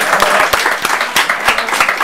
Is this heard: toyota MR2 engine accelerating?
no